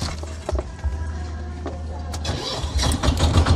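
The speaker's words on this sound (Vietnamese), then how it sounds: "À, coi đề chạy nè." A Kubota RT140 engine on a Mekong-style wooden cargo boat cranks on its electric starter and catches, settling into a steady low chugging idle with a few knocks and clanks, close and fairly loud.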